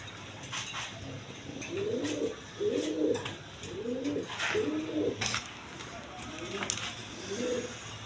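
Pigeons on a breeding farm that keeps racing birds and a pair of tiger pigeons, cooing over and over in soft, rolling phrases at a steady pace, close by, with a low background hum throughout.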